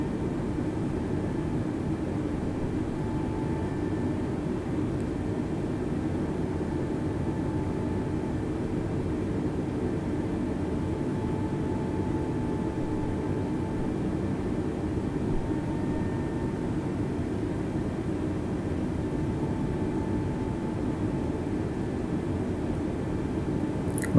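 An Airbus A320 in Microsoft Flight Simulator 2020 taxis toward the runway, its engines a steady, faint, even drone that continues unchanged with no voices.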